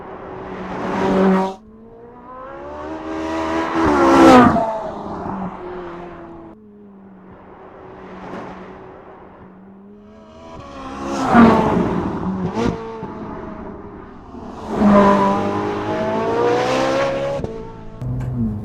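A Ferrari 458 Italia engine revs hard several times, its pitch climbing and falling in loud, close bursts with quieter idling gaps between.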